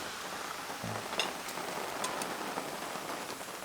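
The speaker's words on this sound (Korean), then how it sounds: "비가 이렇게 싹 오는데 좋습니다" Rain falls steadily outdoors during a barbecue of grilled pork belly on a burner, a soft continuous patter with a few sharper drops hitting a surface nearby.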